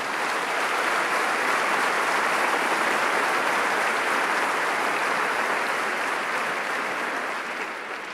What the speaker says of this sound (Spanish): Den un aplauso fuerte al Señor.